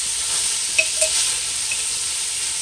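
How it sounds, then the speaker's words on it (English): Carrots sautéing in coconut oil, a loud, steady hiss of sizzling fat filling the short moment, with a couple of faint clicks from a utensil partway through. "now I'm going to put my carrots in. And we're going to saute them a little bit."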